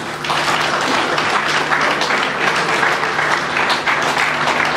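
Dense, continuous applause from a large crowd at an official handover ceremony, many hands clapping at once at a steady, loud level throughout.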